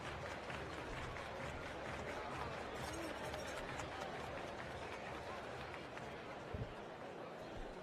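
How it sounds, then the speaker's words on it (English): Baseball crowd at an AAA Nashville Sounds home game applauding and cheering to rally the trailing home team, a steady distant wash of clapping and crowd noise, faint, with a voice talking over it. "Crowd trying to encourage the Sounds here."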